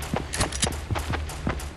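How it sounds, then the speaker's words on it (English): Fortnite battle royale gunfire: a handful of sharp, fairly quick shots spaced irregularly over a couple of seconds, moderately loud, with no talk over them. "Gunshots."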